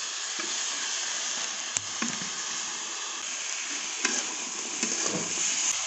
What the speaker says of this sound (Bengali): চিংড়ি মাছগুলো দিয়ে দেবো।